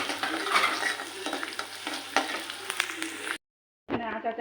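Chopped onion and garlic sizzle and crackle in hot oil while being stirred in a pan for chole bhature, a steady frying hiss that cuts out briefly near the end before resuming.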